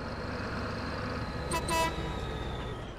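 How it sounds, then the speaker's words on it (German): Tractor horn in Farming Simulator 22, two short toots in quick succession over a continuous low engine rumble. "Die Hupe ist geil von dem Ding"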